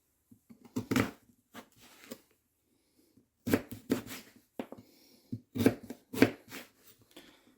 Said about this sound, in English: Lay these slices flat like this. Slice again.